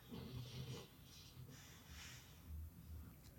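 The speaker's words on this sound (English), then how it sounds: "my dog is dreaming and twitching and making noises" A sleeping dog makes soft, rhythmic snorts, huffs and breathy whimpers while dreaming, close and quiet, in a repeating pattern of short bursts with no talking.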